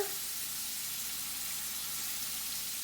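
Scallops sizzling in a hot stainless steel pan, a steady, close hiss of frying that holds evenly throughout.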